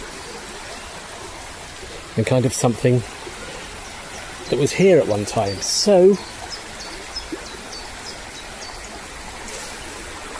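River flowing through Rivelin Valley, a steady rushing stream that fills the background throughout, with a voice speaking over it in two short bursts.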